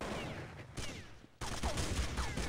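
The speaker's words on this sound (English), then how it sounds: "nice headshot onto Doc" Gunfire in a Counter-Strike match in an esports tournament, with dense rapid shots and bursts from several weapons overlapping, briefly dropping before resuming at full intensity.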